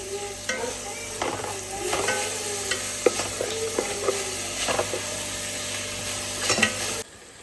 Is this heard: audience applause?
no